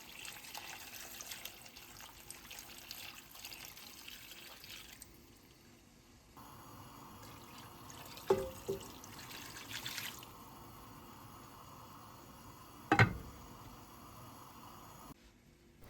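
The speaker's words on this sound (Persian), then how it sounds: "یک پارچ آب به علاوه آب گوشت صاف شدهمون اضافه میکنیم." Water from a jug and strained meat broth are poured into a cooking pot for maqluba, giving a soft, quiet trickle and splash. A few sharper clinks and pours stand out near the middle and later, with no talking.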